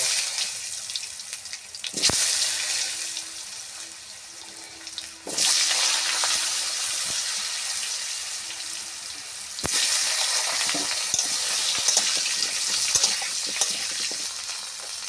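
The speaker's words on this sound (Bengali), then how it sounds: "শুকনো লঙ্কা আর সাদা জিরে আলুটা ভেজে নেব" Potatoes fry in hot oil with dried red chillies, cumin seeds and bay leaf, giving a continuous close hiss that surges at moments, with occasional sharp knocks of a utensil against the pan.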